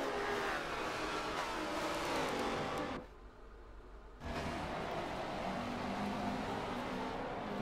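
GT4 race cars roar around Yas Marina in a racing video game, a sustained engine drone that cuts out for about a second before resuming at full volume.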